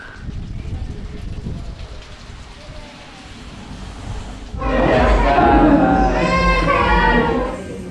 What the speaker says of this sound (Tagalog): Panay ulan pa rin.